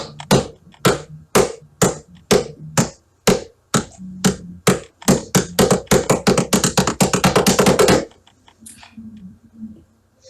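Sharp rapping knocks on wood in a stage play's séance scene, 28 in all, starting slow and evenly spaced, then quickening into a rapid close run before stopping, with faint sounds after.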